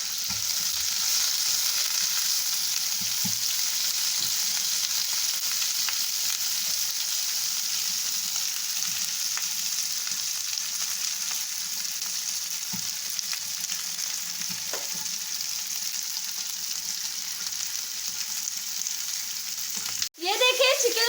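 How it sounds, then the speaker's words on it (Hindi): Okra (bhindi) frying steadily in a pan for a bhindi gosht dish, a continuous close hissing sizzle with faint occasional stirring clicks and a brief clatter near the end. "भिंडियाँ ऐड करेंगे और इसे अच्छे तरीके से फ्राई करेंगे"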